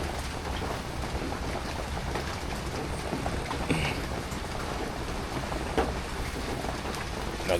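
Steady rain falls without letup, producing a continuous soft hiss of drops on surfaces at a moderate, even level, with a few faint scattered knocks.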